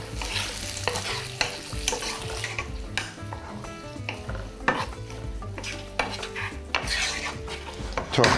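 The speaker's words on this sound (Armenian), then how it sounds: "Թող տապակվի սոխը" Onion frying in a pan for a fish and vegetable dish sizzles steadily up close while a utensil stirs and scrapes against the pan in irregular strokes, with no talk.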